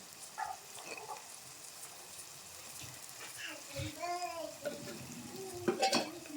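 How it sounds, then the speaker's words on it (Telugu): Tomato, egg and green chilli curry stirred in a pan, with soft scraping and faint sizzling under intermittent speech and a few louder clatters near the end. "మొత్తం మిక్స్ చేసుకో, కలుపుకో ఒకసారి"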